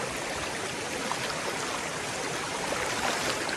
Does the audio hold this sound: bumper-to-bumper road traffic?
no